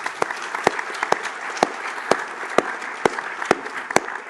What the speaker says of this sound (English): So please give her a huge applause because what?